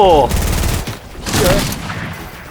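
Rapid bursts of automatic gunfire during a video game shootout, loud and close, repeating in clusters while excited players shout over it.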